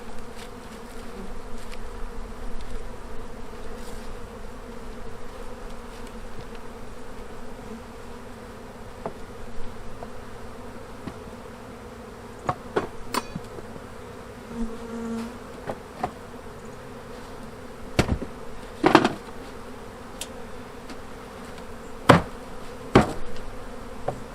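Honeybees hum steadily at a hive coming out of winter while a sugar feeder is set on it, a continuous close buzz broken by several sharp knocks and clicks of equipment being handled.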